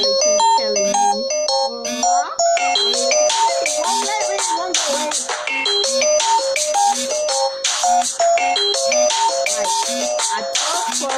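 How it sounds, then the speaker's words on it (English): A bright electronic melody plays as a phone reminder alert, a repeating chime-like ringtone pattern that runs loud and continuous for several seconds with no talk over it. "I've got a reminder that comes up on my phone, and today I did not switch my phone off"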